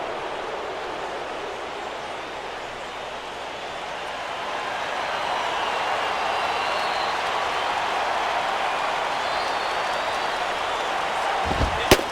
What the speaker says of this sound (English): this crowd is hanging on every pitch